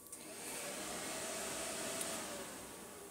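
A Yamaha MT-07 motorcycle's electric cooling fan runs steadily, a faint, even whooshing whir that holds for the whole stretch with no voices.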